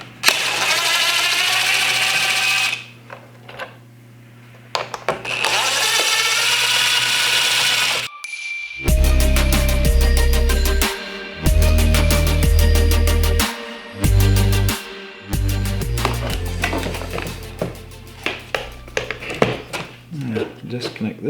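Torx screws are driven out of the dash panel of a Ski-Doo Backcountry XRS snowmobile with a power tool, in several loud close whirring bursts broken by clicks and handling clatter.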